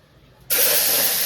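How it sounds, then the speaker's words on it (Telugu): Hot tempering for a fish curry hits the pan with a sudden loud sizzle, a sharp hissing spray that starts abruptly after a quiet moment and keeps going strong and steady. "ఇగో చేపల కూర తాలింపు వేస్తున్నా."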